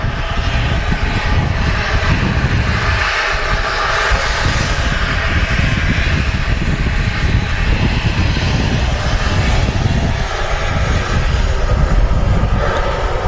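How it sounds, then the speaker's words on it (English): A Ryanair Boeing 737-800 jet airliner at Manchester Airport roars steadily nearby, loud broadband engine noise sustained throughout with no talk over it. "So Ryanair 737-800."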